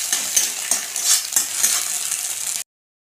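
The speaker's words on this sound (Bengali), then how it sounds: "চিচিঙ্গা ভাজার জন্য আমি ডিমটাকে ভুজিয়া করে দিচ্ছি" Snake gourd and egg fry in oil in a pan, with a bright continuous sizzle and scattered stirring scrapes close by, cutting off abruptly near the end.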